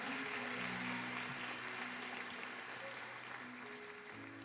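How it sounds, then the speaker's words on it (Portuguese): A church congregation applauds during a sermon, a steady wash of clapping held at moderate level throughout, with faint sustained organ or keyboard tones underneath. "Você pode aplaudir esse Deus maravilhoso?"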